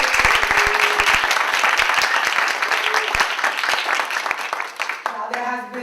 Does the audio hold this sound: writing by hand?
no